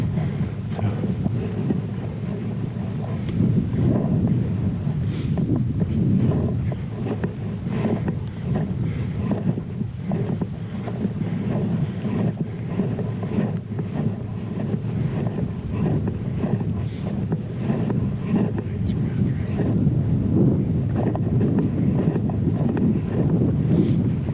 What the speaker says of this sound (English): The wind is coming up this way.